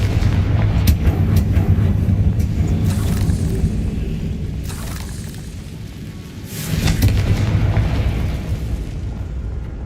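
A Confringo spell explodes in Hogwarts Legacy, sending out deep, rolling booms and crackling bursts, with a second surge of rumble swelling toward the end.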